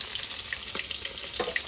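Fish frying in a pan in a home kitchen, a soft, continuous sizzle with scattered small pops and crackles, fairly faint and close, with no voices.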